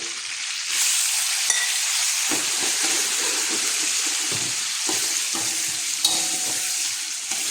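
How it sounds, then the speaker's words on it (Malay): Shallots, garlic and ginger sauté in a hot pan with curry leaves for a tomato chicken dish. A loud steady sizzle holds throughout, broken by scraping stirs and soft clatters. "Dan kita tumis bawang merah, bawang putih halia."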